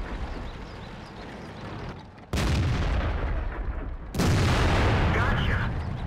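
Tank guns firing in the World of Tanks game, two sudden loud booming shots a couple of seconds apart, each followed by a sustained rumbling roar over a quieter engine background.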